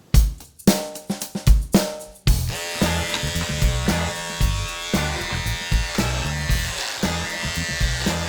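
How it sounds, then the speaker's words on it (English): An electric beard trimmer buzzes in short starts, then runs steadily up close, its whine pulsing rhythmically as it cuts through hair. "I've obviously just got my beard trimmer"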